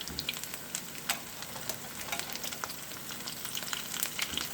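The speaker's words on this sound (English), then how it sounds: "You do have to be careful for the splashing grease." Potato pancakes fry in hot grease, a steady close crackling sizzle with scattered sharp pops and spatters throughout, no voices.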